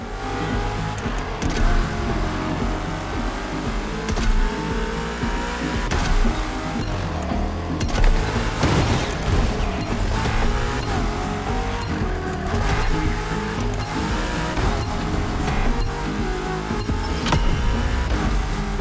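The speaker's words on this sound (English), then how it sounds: "Drifting is the best way to take sharp turns without losing speed" Car drifting through tight mountain hairpin turns in the racing video game The Crew Motorfest, with a steady loud engine roar and tire squeal running throughout, rising and falling as the car slides through corners.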